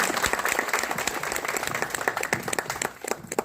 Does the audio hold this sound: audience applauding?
yes